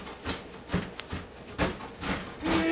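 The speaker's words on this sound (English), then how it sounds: "for the ginger, I guess if you can cut this up in chunks, I like to grate it. So we are going to grate it." Fresh ginger rubbed against a grater during home cooking for stewed ginger tomatoes, a run of soft rasping strokes in an uneven rhythm, close and fairly quiet with no talking.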